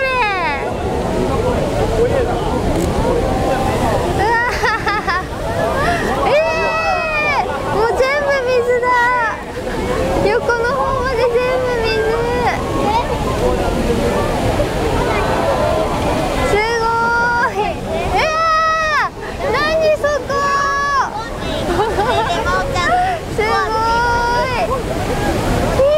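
Dam inspection discharge at Yagisawa Dam, with heavy water spray crashing below in a loud, continuous roar that runs steadily throughout, while excited voices exclaim and talk over it.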